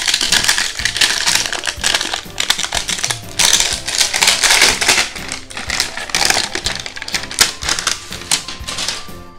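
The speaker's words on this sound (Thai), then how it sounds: "เปิดเลยครับนี่ครับ Open Here ไม่ต้องใช้ของมีคมไม่ต้องใช้กรรไกรคัตเตอร์ครับแกะตรงนี้เลยครับ" A cardboard Majorette Tune-Ups toy car box is torn open by hand, producing loud, close crackling and ripping bursts that come in quick uneven waves with brief pauses between them.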